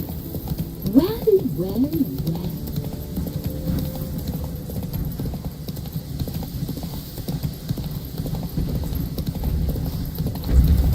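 Hoofbeats of a horse galloping in the video game The Witcher 3, a steady close clip-clop rhythm running throughout, with a voice speaking briefly over it and a short neigh near the start.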